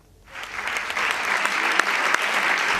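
Applause breaks out to open a debate in Paris, rising from silence into a sustained, even wash of many hands clapping in a large room, with a few sharper claps standing out.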